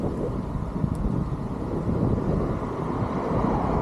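Wind rushing past while riding a Vespa scooter on a country road near Yeovil, England, a constant loud, broadband roar with low rumble and no talking.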